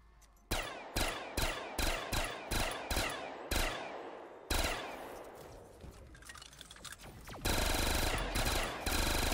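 Gunfire in Call of Duty Zombies: a rapid series of sharp, loud single shots in a steady rhythm, a brief decaying echo, then a sustained burst of continuous automatic fire.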